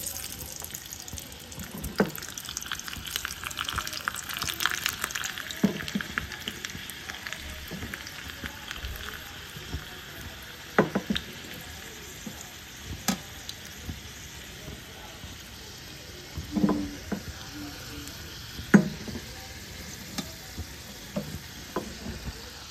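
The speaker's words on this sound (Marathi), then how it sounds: "तेल गरम होईल तेव्हा आपण त्याच्यामध्ये हे लसूण टाकायचं आहे" Garlic sizzles in hot oil for a tadka, a continuous crackling fry with occasional stirring clinks and faint water-like splutters running through.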